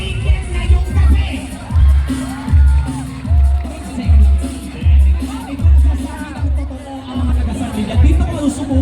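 Crowd noise at a town fiesta in San Miguel, Bulacan, with cheering, whoops and shouting swelling in repeated waves over a steady pulsing beat of loud event music.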